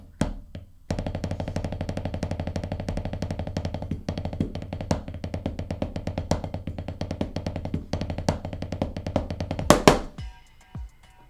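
Snare drum roll from a Drumline solo, a fast continuous buzz of strokes with brief breaks and accents, close and loud, ending in a sharp final hit and short ring.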